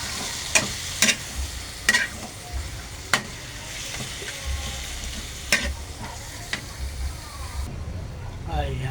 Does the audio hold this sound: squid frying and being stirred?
yes